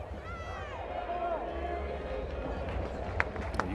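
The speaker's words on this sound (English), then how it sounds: "You can start to hear the crowd get in a little bit more." A baseball crowd at a Georgia vs South Carolina game, a broad murmur that slowly builds and swells, heard behind voices talking, with a few sharp clacks near the end.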